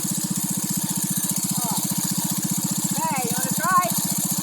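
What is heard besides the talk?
doodlebug minibike engine idling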